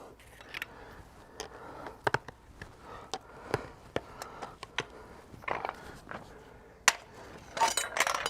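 A farrier nails a horseshoe onto a horse's hoof with a hammer: irregular sharp metallic taps and knocks, some in quick bursts, close by over faint background noise, with no talk.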